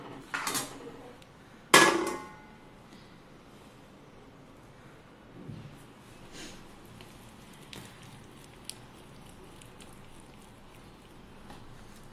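A hard, crisp dalia ladoo made from roasted gram and sugar syrup is knocked against a surface, giving two sharp, close clicks followed by a few fainter taps in a quiet kitchen.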